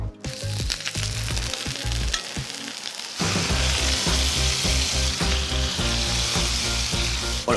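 Pain perdu frying in a pan with a generous knob of butter and a little sugar, a steady close sizzle with clinks and scrapes of a utensil, growing louder and denser partway through, with no talking.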